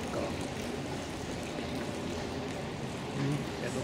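Hot spring water pours steadily from a pipe in Karlovy Vary with a constant rushing splash, close by and unbroken, a soft hiss filling the whole moment.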